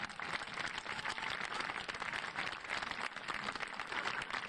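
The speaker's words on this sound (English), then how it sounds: "this woman deserves a huge round of applause" Steady, fairly distant crowd applause from an outdoor community gathering in 1999, a dense even wash of many hands clapping that continues unchanged and without talk.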